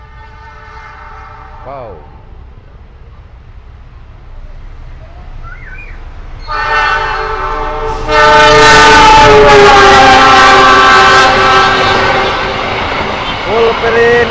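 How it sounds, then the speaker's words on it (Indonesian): The Argo Wilis express train speeds through Cimekar station, its horn sounding before the roar builds into a loud, close rumble of wheels and wagons rushing past, with a brief exclamation from a bystander. "ini KA Argo Wilis ngebut nih, melintas langsung stasiun Cemekan"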